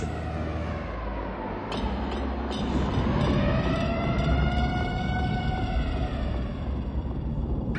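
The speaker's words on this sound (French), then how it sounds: "les sirènes lançaient leur alarme au passage des bombardiers" Air raid sirens over Hiroshima wail with rising and falling tones as bombers pass, several overlapping and echoing across a wide space, sustained and loud over a low rumble.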